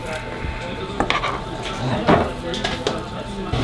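A metal utensil clinks and scrapes against a pot of gravy in a cabin kitchen, a few short knocks and rattles close by amid background noise.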